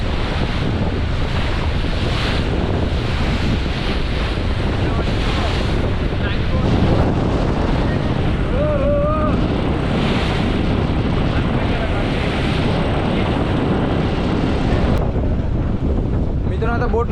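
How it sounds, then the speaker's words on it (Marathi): Strong wind roars across an open sea from a fishing boat after a storm, a constant loud gusty rush with heavy mic buffeting and waves washing beneath it, all the way through. "वादळ वारा कमी झालाय पण तरीसुद्धा आहे"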